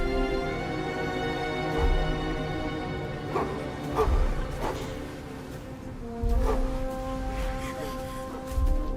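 Dog barking in a Forgotten Realms video game cutscene, several low, spaced barks and growls over a sustained orchestral music bed.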